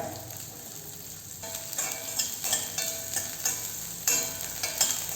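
Garlic and onion frying in a pan for curry leaf chutney, a steady close sizzle with bright hiss and recurring scraping stirs, getting slightly louder midway; no talking.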